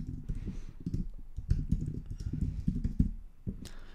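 A computer keyboard clatters in steady, fairly close typing while an online multi-step form is filled in, the keystrokes coming in quick uneven bursts with no voice over them.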